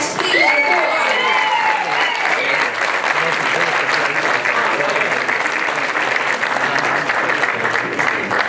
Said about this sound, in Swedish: En stor applåd för allihopa.